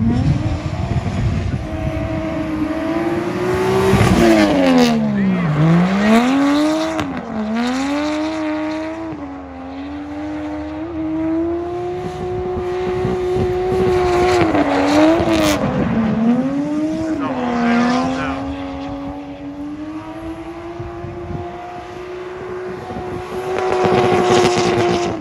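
A Nissan Cefiro drift car with a Honda K24 swap and a new angle kit roars past, its engine rising and falling in pitch as it revs and shifts, loud and fairly close, with exhaust crackle and surging acceleration throughout.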